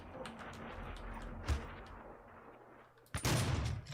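Rocket explosion during a rocket jump in DOOM, a short sharp blast at the end after a softer thud, over continuous rumbling game noise.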